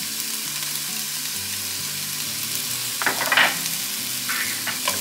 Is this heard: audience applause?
no